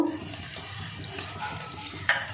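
Oil heating in a wok on a home stove before butter goes in for a white sauce, giving a steady soft frying hiss with light stirring and utensil clicks, one brief sharper clink near the end.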